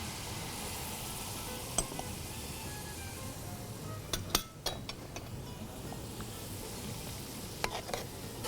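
Red chili powder, Kashmiri deggi chili and dry ginger spices sizzling in a pot for chicken nihari, a steady low frying hiss with a few sharp spoon clinks against the metal and occasional stirring scrapes.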